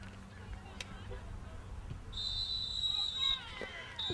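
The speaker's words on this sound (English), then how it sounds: "That's a double whistle, and the final score" A referee's whistle at the end of a soccer match sounds as a sustained shrill blast partway through, followed by a shorter second toot, over distant crowd babble and a commentator talking.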